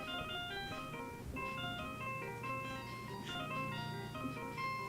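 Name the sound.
Steel Samurai theme ringtone from Phoenix Wright video game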